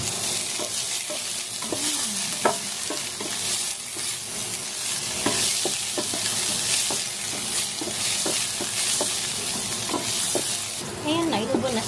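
Garlic, onion and chili frying in a pan, a steady loud sizzle with repeated scraping strokes of a spoon stirring, and a brief burst of louder hissing near the end.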